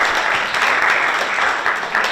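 An audience at a health day in the Rapla Culture Centre applauds, a dense and steady round of clapping that carries on without a break for about two seconds, with no voices.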